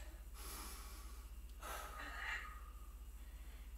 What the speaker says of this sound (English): some nice deep breaths